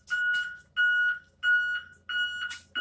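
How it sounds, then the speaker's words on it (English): Four sustained electronic beeps in a steady on-off pattern, loud and close, each lasting about half a second with short gaps between. "that beeping is loud"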